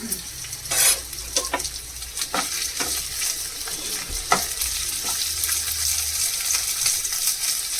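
Potato pieces fry in a pan for a sago recipe, giving a continuous close sizzle punctuated by several sharp clinks and scrapes of a spoon stirring.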